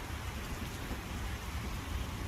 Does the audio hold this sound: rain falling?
yes